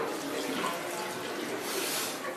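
Tap water runs steadily into a kettle, a broad continuous hiss and splash at moderate level for the whole stretch, with no voices over it.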